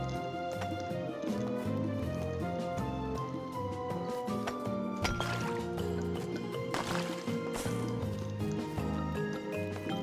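In Craft the World, water pours and drips out with a gurgling, splashing trickle. It plays steadily under a bed of game music.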